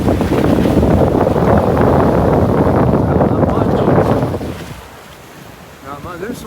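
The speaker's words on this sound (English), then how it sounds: "There's some waves coming in though." Loud rushing wash of ocean waves at Boynton Inlet and wind buffeting the microphone, easing off near the end as a voice briefly speaks.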